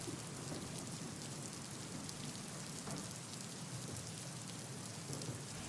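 Steady, dense heavy monsoon rain pouring down continuously in Sindhudurg, Konkan, a loud hiss of drops on surfaces with no voices.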